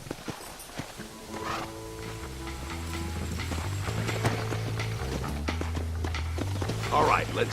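Horse hooves clip-clop at a walk in the Western video game Red Dead Redemption, a steady rhythmic patter under a low game soundtrack and intermittent talking.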